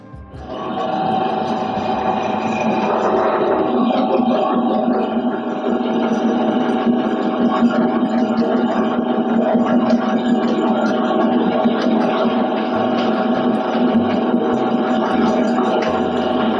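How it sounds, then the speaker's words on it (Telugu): An electric beater whisks eggs and sugar for a sponge cake, a loud, steady motor whine that keeps going without a break. "ఎగ్స్ బాగా బీట్ చేయాలి, అప్పుడే స్పాంజ్ అనేది ఫ్లఫీగా వస్తుంది."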